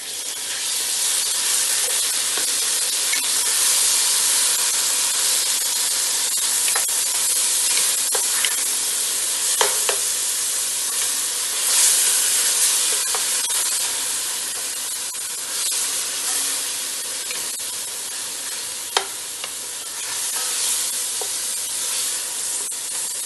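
Tomatoes added to a hot pan for spiced Pakistani scrambled eggs give a continuous soft sizzle and hiss, with occasional small pops and crackles, steady and close.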